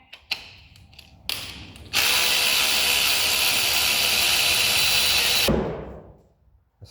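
Engine front cover bolts come off with a power ratchet: a short burst of clicks, then a loud, sustained, fast rattling whir lasting several seconds before it stops abruptly and a few faint clatters follow.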